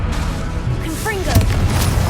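A Confringo spell blast in Hogwarts Legacy bursts out with a booming pop and a rumbling tail as game effects swirl close by, while a voice is heard along with it.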